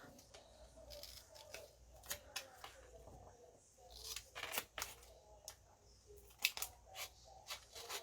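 Scissors trimming paper pieces for a Stamperia Grand Hotel mini-album, giving a string of close, crisp snips and rustles in irregular bursts, with no talk.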